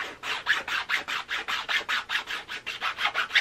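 Rhythmic rubbing across the edge of a wooden M14 cheek riser to knock off fuzz, a close, steady back-and-forth rasp of about a dozen even strokes with no talk.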